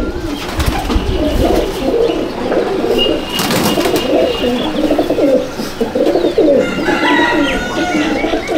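Teddy pigeons in a loft coo steadily in low, throaty rolling calls, several birds close together overlapping, with faint chirps and a brief rustle of wings near the end.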